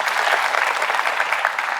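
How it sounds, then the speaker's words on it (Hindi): A seated audience at a NEET PG medical-exam talk claps steadily and densely, a continuous wash of applause that stays loud and even throughout with no pauses. "ठोको ताली"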